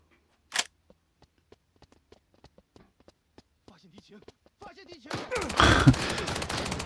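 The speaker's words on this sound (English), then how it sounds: "Oh, getting shot in the back." Gunfire in the mobile extraction shooter Lost Light: a sharp shot early on, then a long run of quick, evenly spaced single shots building into a loud, dense burst of fire at the end, with a voice speaking faintly between the shots.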